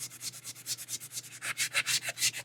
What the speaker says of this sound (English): So I'm going to sand.